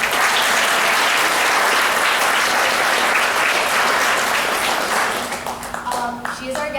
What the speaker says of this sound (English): Could we get a round of applause for her?